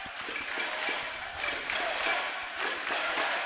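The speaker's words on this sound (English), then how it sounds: "You can hear the chant going up. Listen to this crowd, Davey." A big crowd at a basketball grand final between Manly Warringah Sea Eagles and Central Coast Crusaders roars and chants in a loud, steady wash of voices, swelling in rhythmic surges.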